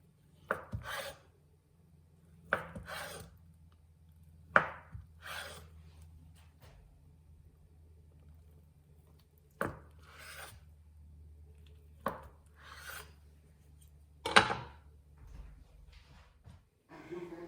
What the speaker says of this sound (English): Cut the tofu to your desired size.